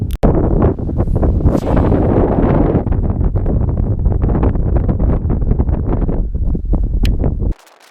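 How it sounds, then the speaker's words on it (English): Strong wind buffets the microphone outdoors at a casting field, with loud gusty rumbling in irregular bursts that stops abruptly near the end. "it is windy out here"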